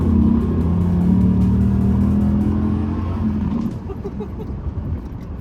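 Car accelerating hard in a pull, a steady loud engine drone with a rising tone that eases off after a few seconds, heard from inside the car.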